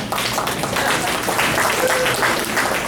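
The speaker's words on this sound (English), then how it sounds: "You can clap." Steady audience clapping at a community meeting with a police deputy chief, a continuous dense wash of hands at fairly close range with some voices underneath.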